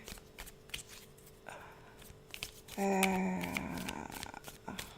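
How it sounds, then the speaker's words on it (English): Tarot cards being shuffled by hand, soft riffling and flicking that grows louder and denser toward the end, close by, with no talking. "It's because I'm just shuffling and talking."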